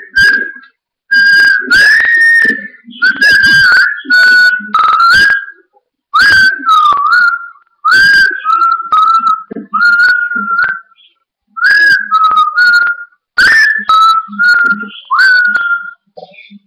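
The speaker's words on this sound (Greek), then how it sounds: "θα κάνουμε ένα μικρό σφύριγμα" A person whistling a repeated short melodic phrase, loud and close, in clear bursts separated by brief pauses.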